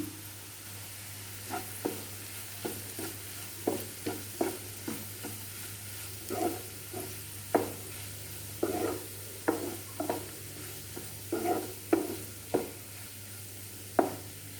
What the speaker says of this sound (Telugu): కారం బాగా కలిసేలాగా తిప్పుకొని మరలా రెండు నిమిషాలు మగ్గబెట్టుకుందాము